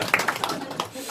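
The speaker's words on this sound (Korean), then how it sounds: "박수." Brief hand clapping in a church Bible class, a few quick close claps amid speech.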